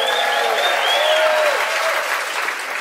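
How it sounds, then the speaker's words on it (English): A crowd of about 600 at a stand-up comedy show in Paso Robles applauds steadily throughout, a dense, sustained wash of clapping with some cheering and whistles mixed in. "Give yourselves a big round of applause."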